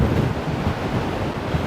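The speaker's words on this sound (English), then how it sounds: "Wow, that is so windy." Strong wind gusting across a golf course buffets the microphone with a steady, loud low roar and rumble that continues throughout, with no voices.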